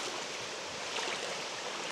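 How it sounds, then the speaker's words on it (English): A shallow creek along a mountain trail flows in a soft, steady hiss of moving water, faint and continuous with no voices. "going through a creek."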